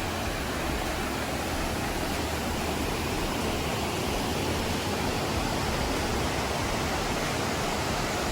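Ezharakund Waterfalls in Kannur, Kerala, rushing in a constant, dense roar of falling water that fills the scene evenly from start to end with no voices.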